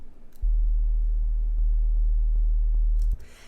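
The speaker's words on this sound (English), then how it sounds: "So I used a pure sub bass as my bass line." A pure sine-wave sub bass line from a trap drop plays as one loud, sustained low tone lasting almost three seconds, starting and stopping abruptly, heard alone without talk.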